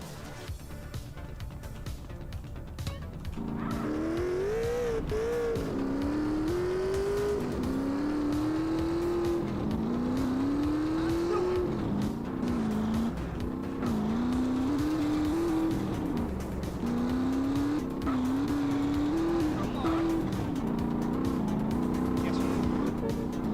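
A motorbike engine in GTA San Andreas drones continuously, rising and falling in pitch through repeated revs and gear changes, with occasional tire squeal and faint talk underneath.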